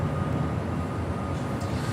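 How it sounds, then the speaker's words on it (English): A JetBlue Airways passenger jet departing Los Angeles International Airport, a steady broad engine roar heard from a distance, continuous and even with no voices. "That was JetBlue Airways flight 1570, heading to Cancun, Mexico."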